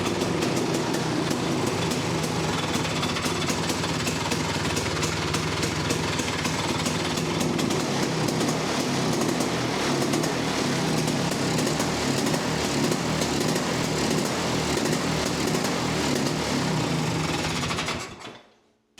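A 400cc two-stroke quad engine runs steadily and loud for about eighteen seconds with a buzzy, rattly idle, then cuts out abruptly near the end, leaving silence.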